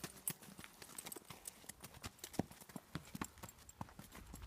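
Quiet, rhythmic clip-clop of a horse's hooves stepping during a riding lesson, with uneven footfalls and occasional louder hoof strikes, faint and somewhat distant.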